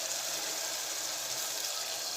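Water pours steadily into tomato gravy in a cooking pot after the tomatoes have been sautéed in oil, a continuous hissing splash lasting the whole moment, close and fairly soft, with no talking.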